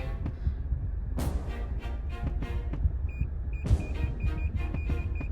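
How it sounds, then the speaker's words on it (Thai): A white Honda Jazz S CVT's rear parking sensor gives a short series of evenly spaced electronic warning beeps while reversing toward an obstacle, faint and high over low engine rumble and cabin noise. "เสียงตรงนี้คือเสียงการทำงานของเซนเซอร์นะคะ เมื่อเราเข้าใกล้สิ่ง"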